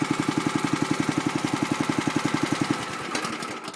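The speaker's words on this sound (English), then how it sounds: "What I like to do in situations like this is just idle the motor for about a minute just to cool the engine" A DeWALT DPW3835 gas pressure washer engine idles with a steady, rapid thumping pulse close by, then winds down and stops near the end, with no talking.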